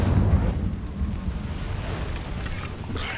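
Incendio fire spell cast in Hogwarts Legacy: a heavy rumbling burst that starts loud and settles into a crackling, roaring fiery wash, with a brighter flare near the end.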